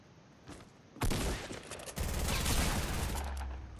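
Shotgun blasts in a first-person shooter video game, loud bursts of gunfire arriving in two heavy waves amid chaotic game noise, without talking.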